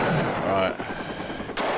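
A helicopter fires in the Amiga game Desert Strike. Short bursts of rapid synthetic gunfire crackle loudly over a dense game soundscape and stop abruptly partway through.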